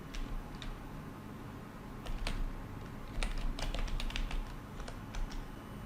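Keystrokes on a computer keyboard entering a conda activate command, sparse clicks at first, then a quicker burst of close, crisp taps with short pauses, no voices.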